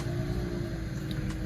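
A car engine hums in a steady low rumble, moderately close and fairly quiet, with no talk over it.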